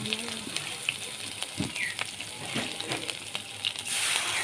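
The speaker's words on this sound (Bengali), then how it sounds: "অল্প জল দিয়ে ভালোভাবে নেড়ে চেড়ে দেব।" Water is poured into a pan of mustard and poppy seed paste and stirred, producing a soft bubbling sizzle with light utensil taps, while someone talks over the cooking.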